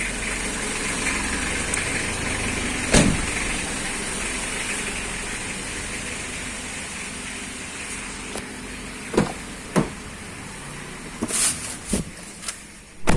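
Mitsubishi Xpander 2020 engine idling steadily after being started, a continuous low hum with a few sharp clicks and knocks scattered near the end.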